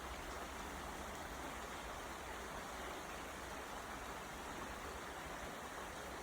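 A brook flows steadily in a garden setting, a soft, continuous broadband rush of water with no breaks, fairly faint and unaccompanied by voices.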